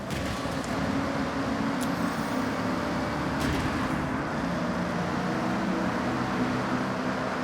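A car engine in a tunnel in the Forza Horizon racing game, a steady loud droning roar with echoing road and engine noise that holds throughout, with a couple of brief sharper bursts.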